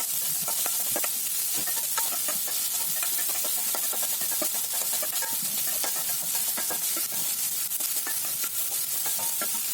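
Chopped onions sizzle and fry in a pan for an egg curry, with a steady crackling hiss and frequent scraping stirs throughout, close and continuous with no talk.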